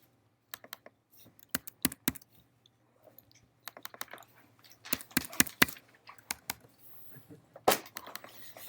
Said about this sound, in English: I promise I'm typing.